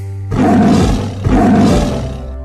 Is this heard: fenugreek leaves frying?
no